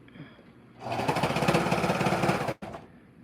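A sewing machine stitches a fabric band onto a skirt in one loud, steady run of rapid mechanical chatter lasting under two seconds, then stops abruptly with a brief clunk.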